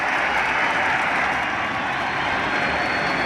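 A home crowd in Puerto Rico applauds a departing starting pitcher at a 2009 World Baseball Classic game against Panama, steady broad clapping and crowd roar filling the ballpark without a break.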